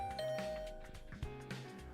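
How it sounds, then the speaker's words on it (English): Doorbell in The Hundred Line: Last Defense Academy chiming a soft, clear ding-dong tone, faint and brief, over quiet game music. "Better ring the bell first."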